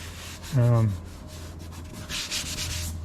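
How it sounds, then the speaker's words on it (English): Light sanding of a wooden part for a Sopwith Camel model airplane, heard as close, steady rasping strokes with a brief hummed voice near the start. "There's a light sand, I think."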